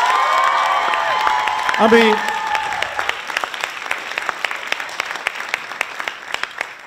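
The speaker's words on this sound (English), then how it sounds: "give Eche a nice round of applause" At a youth singing competition, an audience cheers and whoops for a performer, voices rising over scattered clapping that thins into sparse, sharp individual claps, with a brief spoken phrase in the middle.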